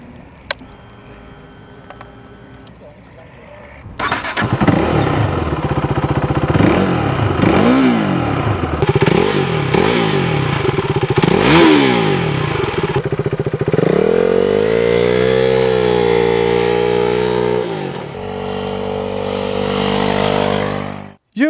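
KTM 390 motorcycle with a 375 cc engine, loud and close, idling briefly before starting and then revving repeatedly in rising and falling sweeps, followed by a sustained high rev and a drop back.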